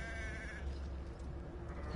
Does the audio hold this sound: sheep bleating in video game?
yes